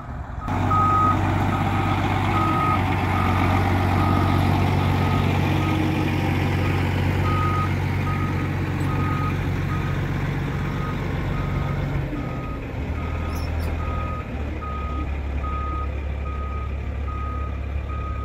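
Truck reversing up a driveway to deliver a shipping container, its steady reversing beeps pulsing evenly over a loud, rumbling diesel engine that shifts in pitch near the end.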